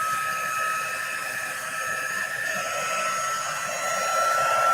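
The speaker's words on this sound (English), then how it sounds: "as the dryer warms up or heats up" A crafting heat dryer blows steadily as it warms up, a continuous close whirring hiss with a high whine, holding level throughout with no talk.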